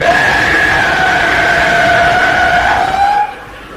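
A voice imitates a car skidding sideways across an intersection: one long, loud, wavering tyre-squeal tone held for about three seconds before it cuts off abruptly.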